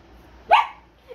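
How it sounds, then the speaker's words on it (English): A single sharp dog bark at moderate distance in an otherwise quiet room, followed by a faint brief sound. "The dog's barking because you did such a bad job."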